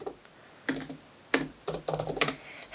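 Computer keyboard typing in short bursts of quick clicking keystrokes with brief pauses between, close and clear with no talk.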